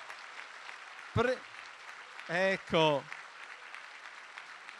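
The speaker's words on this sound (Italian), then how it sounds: "che bel applauso" Pilgrims applaud the Pope's message at Helvia Recina, a faint, steady patter in the background while someone speaks briefly over it.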